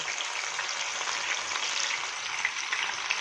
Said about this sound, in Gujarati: હવે આપણે તેલમાં કારેલા અને બટેટા ઉમેરી દઈએ